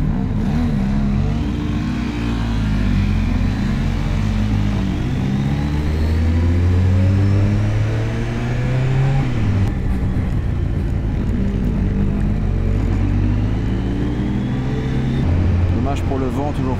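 A motorcycle engine pulls steadily at about 1500 rpm, a deep throbbing drone with slowly shifting pitch and wind rushing over it throughout.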